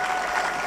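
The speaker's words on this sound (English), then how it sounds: "let's appreciate him more by clapping big" Congress audience at a savings and credit cooperatives gathering in Naivasha applauding, a dense steady wash of many hands clapping at once, fairly distant and even.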